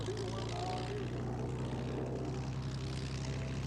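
Classic propeller plane engines drone at an air show, a steady throaty low hum running the whole time while a voice talks over it.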